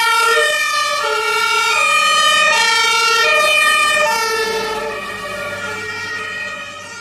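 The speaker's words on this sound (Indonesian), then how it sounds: "Ini ada mobil pemadam kebakaran." Toy fire truck siren wailing steadily and loudly up close, a rising-and-falling electronic tone that repeats for several seconds and dips slightly in level toward the end.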